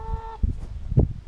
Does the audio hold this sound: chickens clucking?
yes